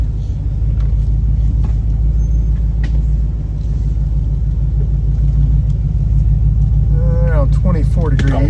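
A truck crossing an off-road trail on a Kentucky adventure tour gives a loud, steady engine rumble close by, with bumps and creaks throughout and a voice talking near the end.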